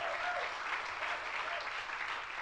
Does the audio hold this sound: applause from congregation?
yes